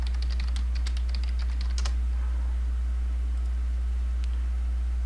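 Quick, close clatter of computer keyboard keys as a controller gets renamed during C#/.NET coding, a burst of rapid strokes for about two seconds, then a lone key tap, all over a steady low electrical hum.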